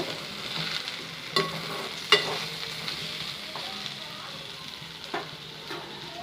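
Potatoes and okra fry in an oily pan with a soft, constant sizzle. A few sharp clinks and scrapes of a spoon mark the stirring, close but fairly quiet, with no talk.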